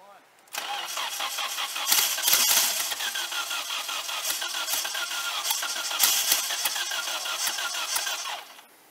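A turbocharged KA24E four-cylinder in a Nissan 240SX cranks and fires up, then settles into a loud, rough idle with a couple of surges; voices can be heard around it.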